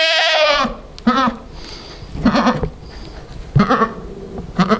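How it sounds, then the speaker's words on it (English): A newborn single baby goat, grey-whitish and born to a pure black Spanish goat, gives a few short, quavering bleats close by, with softer rustling and quieter calls between them. "Little baby goat, little single."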